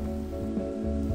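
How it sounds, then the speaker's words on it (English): Rain falls steadily on a car, a continuous patter and hiss with a low rumble, fairly close and even throughout, with no talk. "The car will protect me from the rain."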